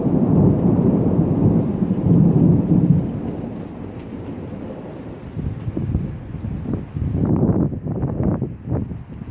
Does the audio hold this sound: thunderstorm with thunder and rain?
yes